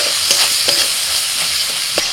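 A spice paste of ginger, green chilli, salt, turmeric, coriander, cumin and Kashmiri chilli powder fries in a pan with a dash of water, giving a loud, steady sizzle punctuated by rhythmic spatula scrapes.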